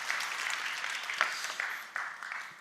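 A church congregation claps for a returning pastor, a dense steady wash of hands with a few sharper claps standing out, moderately loud and fading slightly toward the end, with no voices over it.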